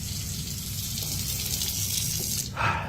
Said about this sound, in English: the kitchen faucet turns on by itself